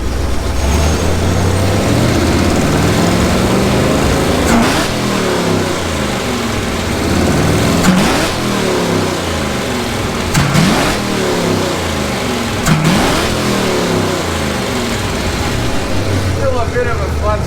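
A carburetted rally car engine runs after timing and fuel mixture adjustments, idling and revving repeatedly in short blips, loud and close, with a continuous rough rumble between the revs.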